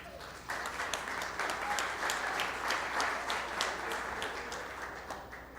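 Applause from the audience at a solemn council session, a dense steady patter of many hands clapping that starts half a second in and holds at moderate, even loudness for the rest of the clip.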